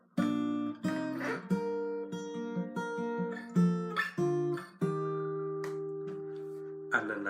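An electric-sounding guitar plays the chorus of a song as sustained, ringing two-note chords that change every beat or two, clear and close with no talking.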